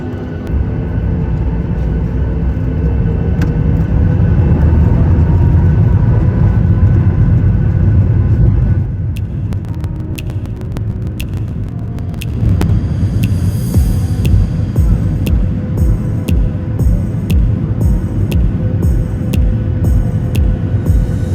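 Cabin of a Blue Air Boeing 737 MAX 8 taxiing at Heathrow: steady engine roar and low rumble, dipping briefly midway, then resuming with faint rattles and clicks from the cabin; no talking.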